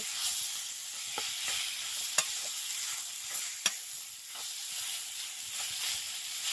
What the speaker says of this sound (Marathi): पूर्ण मसाले भाजीला लागेपर्यंत भाजी अशी परतून घ्यायची